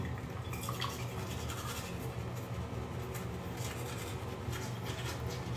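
Teeth brushed with a toothbrush, a steady close scrubbing and rubbing that continues throughout with faint background hum and no speech.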